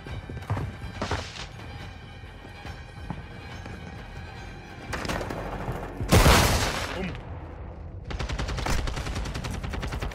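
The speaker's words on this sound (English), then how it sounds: "Taking effective fire." Gunfire in the Call of Duty Modern Warfare 2 video game: bursts of shots and a loud blast near the middle ring out over a steady battle din, ending in rapid repeated fire.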